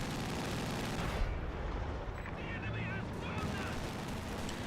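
A leFH 18 howitzer artillery barrage in the Company of Heroes 2 video game, with dense, continuous rumbling blasts and gunfire filling the mix and a caster's voice talking over it.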